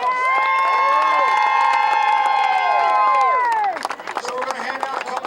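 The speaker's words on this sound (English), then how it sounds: "Let's give them a round of applause." Crowd cheering and shouting for a beach soccer team after a cup final, loud and sustained with excited voices and whistles, then thinning out toward the end.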